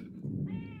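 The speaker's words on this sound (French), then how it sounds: "Le chat qui, décidément, a un gros rôle dans le film." A single drawn-out cat meow, close and fairly loud, rising and then holding a bright tone before fading, with no talking.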